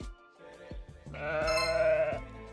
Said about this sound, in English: How do you say sheep?